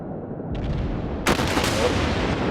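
Battleship USS New York's main guns fire in the naval combat game World of Warships, a deep rumbling boom followed by a sharper, louder salvo blast with a rolling tail, close and heavy.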